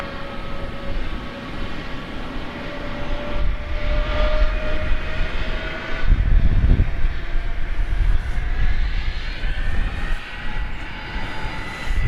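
Southwest airliner, a Boeing 737, on the runway at Dallas Love Field at night: a loud, steady jet engine roar with a whining tone that shifts in pitch and builds as the plane moves.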